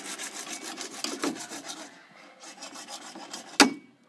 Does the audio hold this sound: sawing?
yes